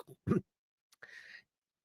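A few wet, phlegmy coughs and a throat clear from a person with COVID, close and separated by short pauses.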